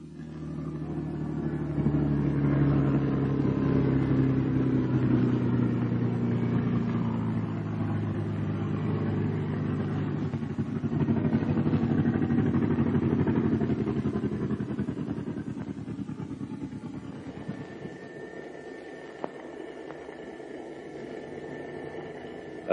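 A Bell P-39 Airacobra fighter plane's engine rumbles steadily while taxiing, a low droning throb that holds, swells slightly, then eases to a quieter idle near the end, with no one speaking.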